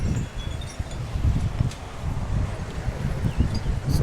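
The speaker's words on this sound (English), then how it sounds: "It's a little bit windy." Wind gusts outdoors on a street of souvenir shops in Aruba, a loud, continuous rumbling buffet against the microphone with faint rustling over it and no clear speech.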